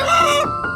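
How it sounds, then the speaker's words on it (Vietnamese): Chickens on a rural Vietnamese homestead in the morning, a hen clucking and a rooster crowing in one short, close, fairly loud burst that cuts off abruptly. "Buổi sáng nghe tiếng gà mẹ cục mồi, tiếng gà trống gáy"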